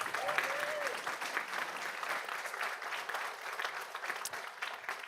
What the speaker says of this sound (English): And you can give him a round of applause.